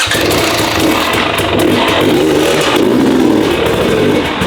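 A 2022 KTM 150 dirt bike engine warming up, a loud, continuous raspy two-stroke drone with slight rises in revs, close by and without talk.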